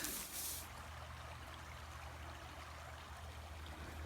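River water flowing steadily through a shallow stretch of stream edged with tall grass, a continuous close rush and trickle with a low rumble underneath and no pauses.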